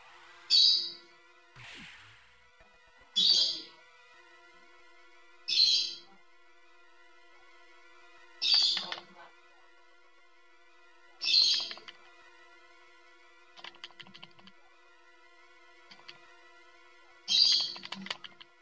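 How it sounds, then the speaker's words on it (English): A pet bird calls indoors in the background, sharp chirps and squawks repeating roughly every three seconds, about seven bursts, fairly clear over a quiet room. "My bird is going off in the background."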